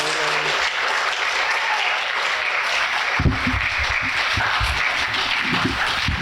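Audience applause at a town meeting, steady sustained clapping from a crowd filling the room throughout, with a few sharper louder claps standing out near the end.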